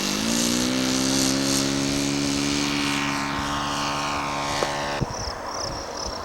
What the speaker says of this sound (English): that's enough test flying for Bob